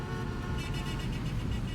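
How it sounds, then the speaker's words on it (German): A fire truck horn honks in the game Fire Fighting Simulator: Ignite, a steady tone held for under two seconds over loud engine and road rumble, with no talk. "War ein Hupen."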